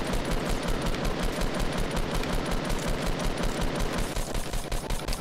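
SCAR rifle firing continuously in the battle royale video game Fortnite, a loud, dense, rapid stream of gunshots filling the whole clip.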